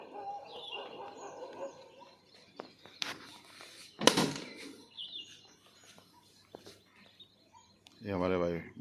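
A flock of pigeons flying over a rooftop, with soft wing flaps and scattered chirps, sharp bursts of flapping at moments, and people talking nearby.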